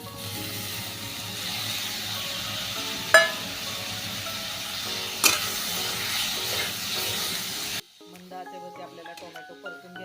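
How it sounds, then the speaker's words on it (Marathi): Finely chopped tomatoes hit a pan of fried red-chilli spice masala for a spicy tomato chutney, giving a steady sizzle with two sharp clattering bursts as they are tipped and stirred in, before the frying cuts off and music takes over. "आता यामध्ये आपण टॉमॅटो टाकून घेऊया बारीक कट केलेला"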